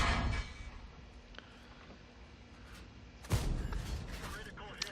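A tank firing high-explosive rounds in World of Tanks, a heavy booming blast at the start, then a quieter stretch before a second loud shot with rumbling aftermath, a voice talking in between.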